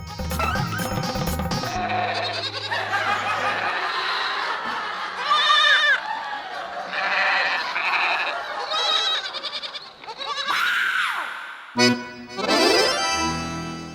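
A goat bleats several times in a comic wedding-procession scene where a goat stands in for the groom's mare. The bleats are loud and wavering and sit among dense music and other background sounds.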